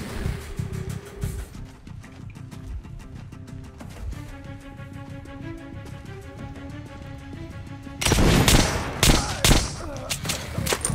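Rapid gunfire from the video game Metro: Last Light comes as dense bursts of sharp cracks, sparse at first and then a louder, heavier volley in the last few seconds, with faint background music.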